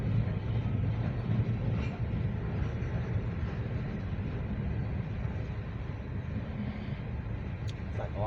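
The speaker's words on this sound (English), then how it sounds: "Got a Conrail and a Norfolk Southern gondola." A Norfolk Southern local freight train with Conrail and Norfolk Southern gondolas rolls past, a steady, loud rumble of wheels and cars sustained throughout with no break.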